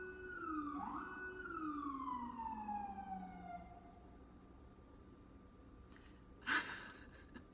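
Emergency vehicle sirens in a city wail and slide downward in overlapping tones, then fade into a low hum with a brief sharp burst near the end, heard at a distance.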